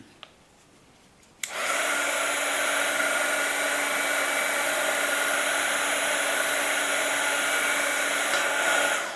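An electric heat tool blows steadily at close range, melting embossing powder on a metal clamp, with a sudden switch-on after a brief quiet start and then an even, unbroken whooshing hum.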